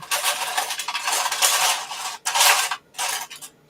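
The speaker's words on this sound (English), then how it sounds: "So I do apologise about the rummage noise as well." Plastic LEGO parts rattle and clatter as hands rummage through trays, in dense bursts of scraping and clicking with brief pauses, close and fairly loud.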